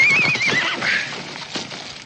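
A horse neighs in a single loud, wavering whinny that trails off into outdoor background noise, with no voices.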